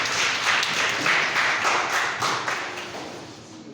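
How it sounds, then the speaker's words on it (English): Students at a school entrepreneurship sensitization program clap together for a classmate, a short burst of hand claps in a room that fades out after a few seconds. "Clap for him, please."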